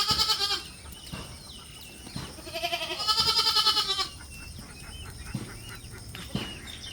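A mother goat and her two kids, one male and one female, offered at a livestock sale, bleat in several distinct nearby cries, some short and some drawn out, separated by quieter pauses.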